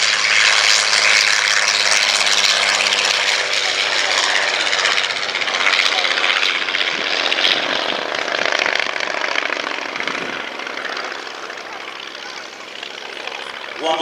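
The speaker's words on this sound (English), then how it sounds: "Wonderful sound of that 5-cylinder Genet radial engine up front." A loud, steady drone from a five-cylinder Genet radial aircraft engine with a rough propeller buzz fills the whole stretch at an airshow, easing slightly toward the end while speech sits underneath.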